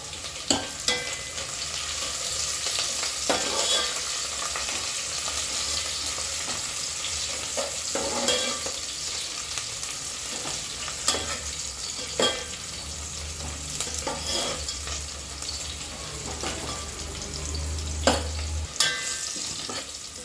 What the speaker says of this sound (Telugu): చూడండి ఇలా ఇలా ఫ్రై అవ్వాలి ఉల్లిపాయలు